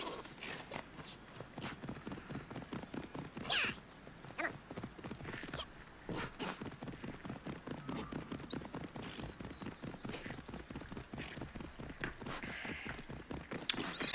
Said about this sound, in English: we can call our horse here and ride along